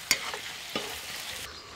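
A spoon scrapes and stirs snake gourd curry with salt in a pan, a few quick strokes over a faint sizzle, close by.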